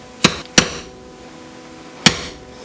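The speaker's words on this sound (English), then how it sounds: "I'm going to use the back of this little ball peen hammer to help shape it." A small ball peen hammer strikes metal being shaped for a wooden popper lure, three sharp metallic taps: two close together, then a pause and a single final blow, loud and alone.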